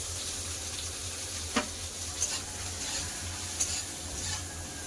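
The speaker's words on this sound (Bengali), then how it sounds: "বেগুন ভাজা হচ্ছে" Steady, close sizzling of eggplant slices frying in hot oil, with a few faint clinks of stirring.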